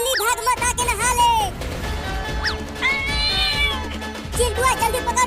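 Several cat meows, some drawn out and rising, mixed with people talking, thuds and clattering commotion nearby.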